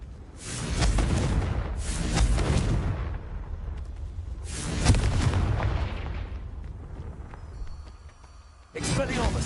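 Repeated Confringo fire blast spell explosions in Hogwarts Legacy, several loud booming bursts arriving in waves with rumbling tails, close and full, a final blast at the end.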